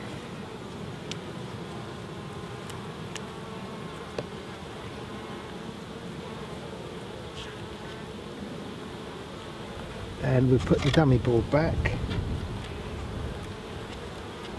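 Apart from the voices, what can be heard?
honey bees buzzing around an open hive during inspection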